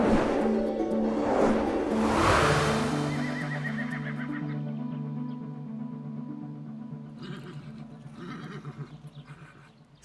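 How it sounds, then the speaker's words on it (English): Horses neigh at the stables in a children's show, a loud whinny up close at first, then fading as music continues underneath and softer animal calls return near the end. "Stables and horses."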